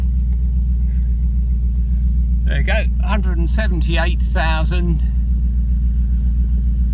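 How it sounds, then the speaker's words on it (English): A BMW 8 Series engine idles steadily after starting, a constant low rumble close by, while someone speaks briefly over it. "The engine sounding perfect though."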